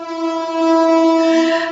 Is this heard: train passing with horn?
yes